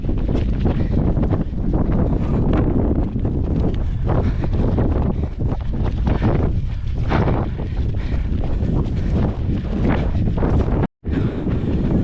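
Strong wind buffets the microphone during a half marathon run, a loud, continuous roar with gusty fluctuations, cutting out briefly near the end.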